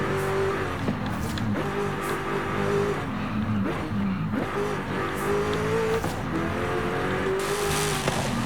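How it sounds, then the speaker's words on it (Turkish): A Hennessey Venom GT in Forza Horizon 5 roars through repeated shifts, its exhaust rising and dropping in pitch, loud and continuous with occasional tire squeal, no talk. "Abi dışarıdan yırtınıyor ya egzoz."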